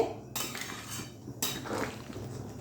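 Meat being stirred with hot water in a pot for mutton curry, with close clanks and scrapes of a utensil against the metal pot in two bursts and no talk.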